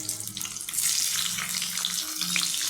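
Boiled potatoes fry in oil in a wok with a close, bright hiss and crackle, and brief low scraping or stirring sounds come in underneath.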